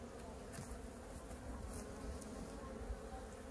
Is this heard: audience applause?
no